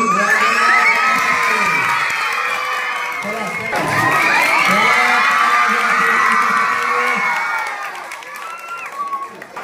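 Loud crowd cheering and applauding with children shouting at a school prize-giving ceremony for a drama recitation competition, sustained throughout and fading slightly near the end.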